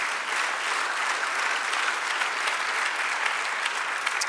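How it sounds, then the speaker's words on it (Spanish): A church audience claps together in steady applause, a continuous, moderately quiet patter of many hands with no break. "Dale un aplauso al Señor."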